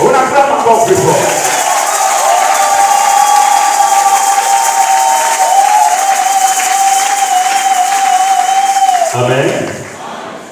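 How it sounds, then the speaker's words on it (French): A church congregation at a Sunday service cheers and applauds loudly, a sustained roar of clapping and shouting voices held for about nine seconds before fading. "On acclame encore plus fort."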